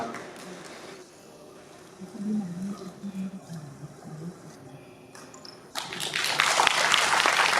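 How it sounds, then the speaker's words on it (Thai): Audience applause at a charity concert of Thai popular songs honoring national artists swells up loud and steady near the end, following a stretch of talk over a quieter hall. "ขอบคุณกำลังใจเสียงปรบมือทุกทุกท่านครับ"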